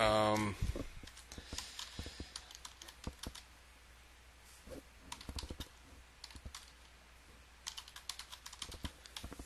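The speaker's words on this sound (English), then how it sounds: "I'm just going to just type in something just to get started" Keys clatter on a computer keyboard as someone types a message, in quiet, irregular bursts of light clicks with brief pauses, close and fairly faint throughout.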